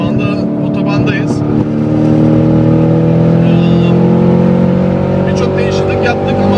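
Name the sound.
modified Mustang Shelby GT500 driving on a highway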